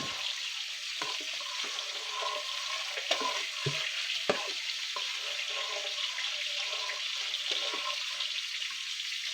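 Marble grouper fish fry in hot oil, giving a steady, bright sizzle with scattered pops and a few scraping stirs, close up and continuous with no talking.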